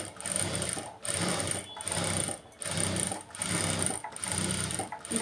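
A sewing machine stitches a blouse, running in steady continuous bursts with brief pauses between runs, close and fairly loud.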